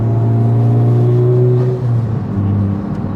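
A modified Honda Civic Type-R FL5 engine revving loudly and steadily up close, with a strong low drone and harmonics that climb and then drop as the revs change, with no talk.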